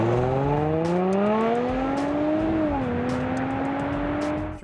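A 2014 Range Rover Sport HSE's supercharged 3-liter engine pulls hard under acceleration, a rising whine-tinged tone climbing steadily, easing briefly at a shift, then climbing again.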